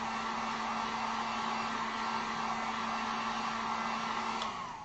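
Hair dryer blowing on wet acrylic paint, a loud steady whirring drone held close throughout, then easing off at the very end.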